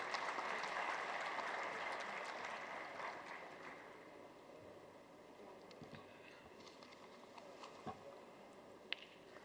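An audience applauds at the inaugural ceremony of the ICAI AI Innovation Summit 2024, a dense wash of clapping that is strongest at first and then tapers to scattered claps, heard faintly from a distance.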